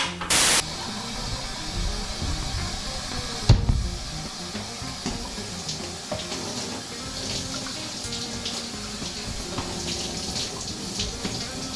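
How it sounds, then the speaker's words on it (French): Water runs in a home shower, producing a steady broadband hiss across the whole span with a brief sharp burst near the start and a thud partway through, without speech. "Et maintenant, c'est le moment de prendre une douche."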